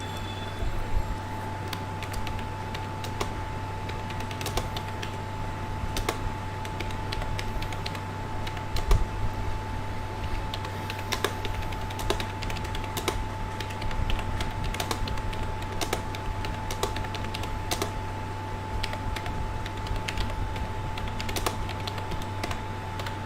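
A computer keyboard is typed on steadily during a live online class, with fast irregular clicks close to the microphone over a constant electrical hum, and no talking.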